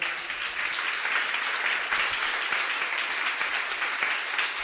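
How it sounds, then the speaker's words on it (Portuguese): A church congregation claps loudly and steadily during a sermon, a full, continuous wash of applause lasting several seconds with no talk over it. "Vocês podem aplaudir o Senhor?"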